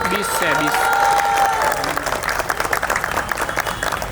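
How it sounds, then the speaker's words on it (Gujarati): Applause for a couple at a sangeet night, a crowd clapping in a dense, steady patter with a voice speaking over it at the start, then the clapping carrying on alone. "એવા કપલ માટે એક સ્પેશિયલ તાળીઓ થવી જોઈએ"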